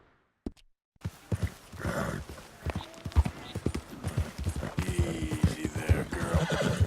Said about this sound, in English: I feel like I'm working my horse a little bit too hard.